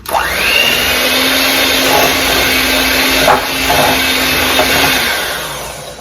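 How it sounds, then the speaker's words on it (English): An electric hand mixer with beater attachments whirs at low-medium speed, creaming butter and sugar for a pound cake; a loud, steady close-up motor drone with a slight rattle, alone without talk. "We are going to use the beater attachments on a low-medium speed to cream this butter and sugar together for about 1 minute."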